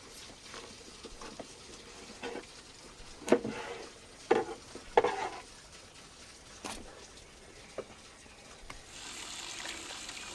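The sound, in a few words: rinsing beef ribs under running water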